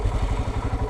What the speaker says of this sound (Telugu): బైక్ స్టార్ట్ చేద్దాం